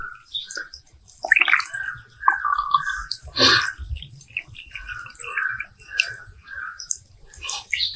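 Fruit being rinsed by hand under running water in a village garden, with splashing and dripping bursts and intermittent wet squishing, close and fairly quiet.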